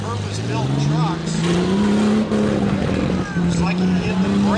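A purpose-built demolition derby truck revs its engine at the arena. Its loud, throbbing growl climbs and falls in pitch over steady crowd and announcer talk.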